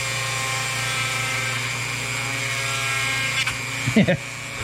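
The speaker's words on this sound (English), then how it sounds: "This Dremel is, of course, not the safest thing in the world." A Dremel rotary tool whines steadily with a high buzzing hum, cutting flipper material, running continuously close by before a few brief knocks near the end.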